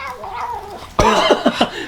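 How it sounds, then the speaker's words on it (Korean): An annoyed cat meows while being wiped clean instead of bathed, a low drawn-out grumble followed by a louder whiny yowl and a couple of short, sharp complaining meows, close up. "고양이들 왜 이렇게 짜증내서 오는 거야?"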